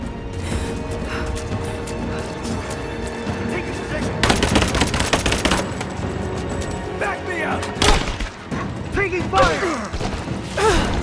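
Covering gunfire in the video game Rise of the Tomb Raider: sustained automatic fire and bursts of shots crackle loudly amid mechanical clatter and crashes, with shouted voices mixed in during the firefight.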